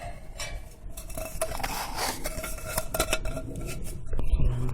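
Metal camping cookware pieces clink and scrape as they are nested together and handled, a steady run of close metallic clatter and rattles with no talking.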